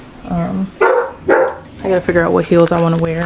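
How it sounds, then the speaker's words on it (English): A dog barks several times in quick succession, close and loud, with whimpering yips mixed in, as someone talks over and between the barks indoors. "That's my dog."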